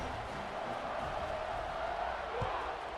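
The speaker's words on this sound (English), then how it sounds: "this crowd is buzzing after that last score" Broad steady crowd murmur fills a virtual stadium in the College Football 26 video game, a constant wash of distant buzzing noise with a faint thump near the end and commentary-style speech underneath.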